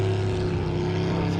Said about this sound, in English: The guy's got an actual motor on the back of his boat.